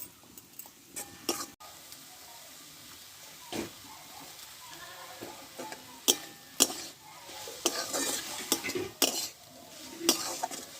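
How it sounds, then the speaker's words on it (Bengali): Jute leaves are stir-fried in a pan, giving a soft frying hiss punctuated by irregular clinks and scrapes of a utensil against the pan, growing busier toward the end. "আমি শাকটা ভালো করে ভেজে নিয়েছি"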